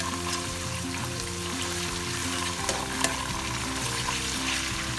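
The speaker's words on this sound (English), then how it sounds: "So we fry this with the onions until it is well fried" Concentrated tomato puree frying together with onions in a pot for Nigerian coconut jollof rice, a steady close sizzle with occasional stirring scrapes and a soft tonal hum underneath.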